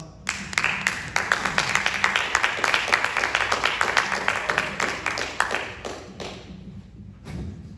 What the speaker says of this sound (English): So everybody give him a round of applause.